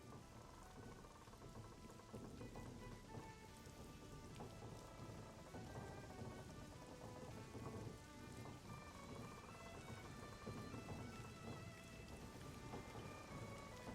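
Steady, dense rain with rolling thunder fills a Xenoblade Chronicles 2 game scene, a continuous even downpour with no talking over it.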